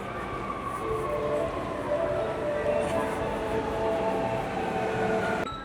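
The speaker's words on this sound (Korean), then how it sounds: "지하철이 왔나봐요." Subway train pulling into an Osaka station, a steady loud rumble with rail squeal and tonal whine that persists throughout, while background voices are faint in the platform noise.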